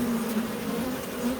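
Honey bees drone steadily in a Langstroth-frame long hive, a close, dense buzzing hum with a slightly wavering pitch and no voices.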